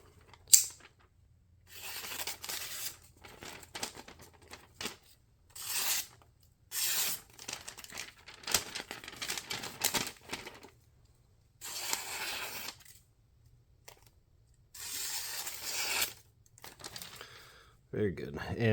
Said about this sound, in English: I'll cut a little bit of paper. Got this really thin magazine paper.